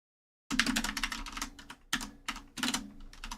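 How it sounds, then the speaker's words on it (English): Fast, close typing on a computer keyboard, with dense clicking runs broken by short pauses during software work, no voices. "There's gonna be a lot of keyboard ASMR,"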